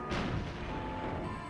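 A single cannon blast in Star Fox Adventures: one loud, sharp boom at the start that spreads into a broad roar and fades slowly, with no voices.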